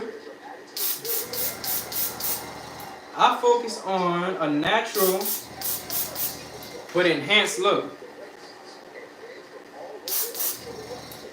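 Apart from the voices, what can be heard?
spray bottle spraying on hair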